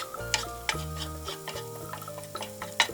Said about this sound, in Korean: 간마늘 반 스푼을 넣어주고 약불로 마늘이 갈색이 될 때까지 볶아주세요.